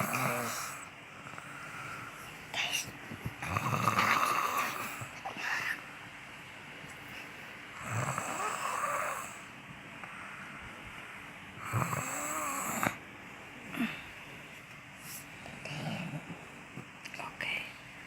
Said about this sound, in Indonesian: Udah dibetulin bantalnya masih ngorok.